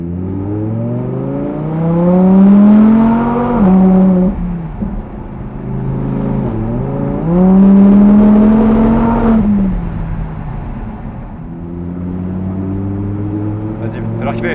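An Audi R8 sports car engine revs hard through gear changes, rising pitch sweeps climbing and dropping with each shift, loud and close, with people talking over it.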